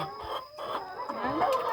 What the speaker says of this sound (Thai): พี่กุ๊กไก่กำลังจะไข่